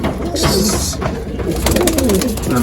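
Teddy or Haifa pigeons coo close by in their cage, a run of low, rolling calls that swell toward the end over light rustling and scratching.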